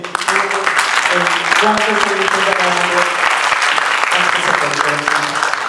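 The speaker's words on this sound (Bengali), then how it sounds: "আর একবার জোরে হাততালি" Loud, dense applause from an audience at the close of an evening stage show, steady clapping throughout with some voices and musical tones mixed in underneath.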